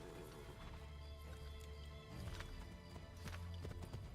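Horse hooves clip-clopping in the Assassin's Creed 3 video game, a steady trotting rhythm under an ambient music drone with a few whinny-like bursts, fairly close and moderately loud.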